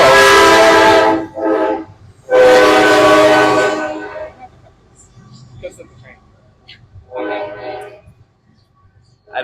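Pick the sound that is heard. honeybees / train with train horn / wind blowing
train with train horn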